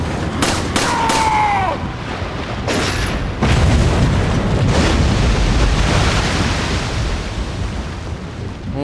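Pistol shots in a video game ring out as a few sharp, booming cracks early on, one trailing a brief whine, over a constant rushing, wind-like background roar.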